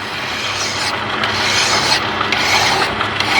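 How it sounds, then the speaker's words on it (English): A hand file rasping on a motor mount tube for a Corvair FC Rampside, loud and close, in quick back-and-forth strokes with short pauses between them, no talking. "Or you use a file, I guess, right? A good file."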